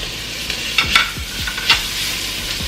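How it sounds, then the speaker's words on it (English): Tomatoes hit a hot pot of curry leaves for a sambar and sizzle steadily, with a few sharp crackles and stirring clinks over about three seconds, close and moderately loud with no talk. "Now to this I will be adding the tomatoes"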